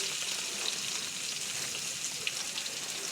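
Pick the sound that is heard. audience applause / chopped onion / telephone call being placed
chopped onion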